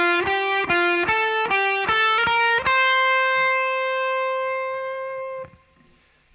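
An electric guitar with distortion picks verse lead A of a song, six clipped, evenly spaced notes climbing up the neck, then a final note left ringing and fading out, loud and up close.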